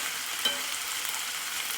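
Potatoes fry in a pan for a vegetable kurma, giving a steady, even sizzling hiss that stays close and moderately loud with no talking.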